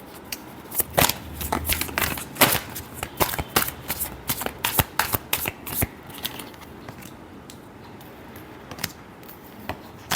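A deck of tarot cards is shuffled close by, a quick flurry of riffling snaps and flutters that thins out into quieter handling after a few seconds, with no talk.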